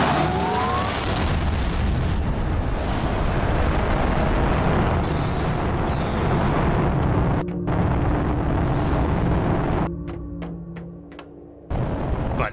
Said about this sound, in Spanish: Voy a lanzar dos cohetes más.